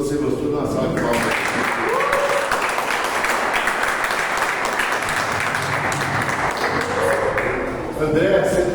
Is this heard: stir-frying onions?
no